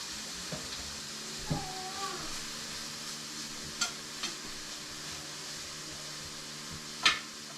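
Onions sautéing over medium heat in a pan for lasagne, a steady soft sizzle with a few light clinks of a utensil stirring.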